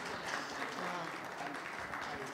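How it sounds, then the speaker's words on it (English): Brief, faint applause from a congregation at a motivational church service, a short burst of scattered clapping at low level with some voices mixed in. "Can we give Emily a round of applause?"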